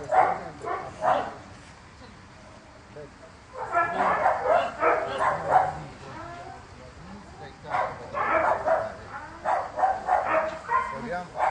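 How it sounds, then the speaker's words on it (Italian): Dog barking in short bursts, several separate yaps grouped in clusters at moderate distance, with people talking between and over them. "Questo qua è un cane."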